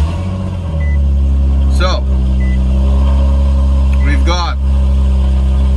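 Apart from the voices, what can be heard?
Nissan 370z engine starting and running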